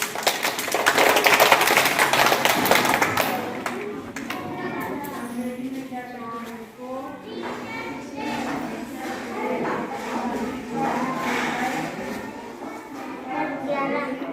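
Children clapping during a school readiness activity on near and far, a loud burst of applause at the start that thins into scattered claps under a teacher's voice and kids talking.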